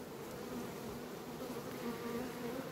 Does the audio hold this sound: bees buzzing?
yes